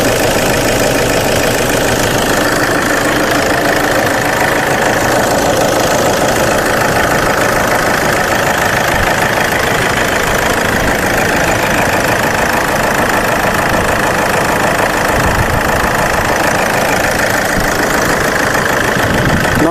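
A 2016 Toyota Innova G4 idles, its engine giving a loud, steady, close-up drone with a slight knocking rattle that holds unbroken throughout, with no talking.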